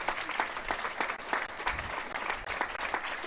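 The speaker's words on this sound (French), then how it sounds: "je vous invite à applaudir chaleureusement nos 4 conférenciers" Conference audience applauding warmly for four speakers, a dense, steady wash of clapping hands that carries on without a break.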